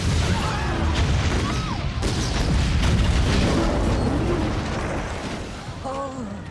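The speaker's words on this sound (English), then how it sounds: "fireworks! Lovely." Fireworks in the film The Patriot (2000) boom and crackle in a loud, dense barrage lasting the whole stretch, with voices talking over the blasts.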